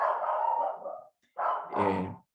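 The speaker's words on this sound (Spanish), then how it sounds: "Si oyen a mi perro ahí ladrar, esta es la hora que le encanta ladrar." A dog barks indoors at home in two close, loud bursts of barking separated by a brief pause, with no talking over it.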